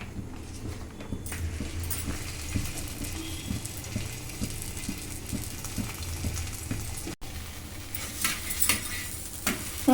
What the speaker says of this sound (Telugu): రెండో వైపుకు తిప్పుకొని మంచిగా ఫ్రై చేసుకోవాలి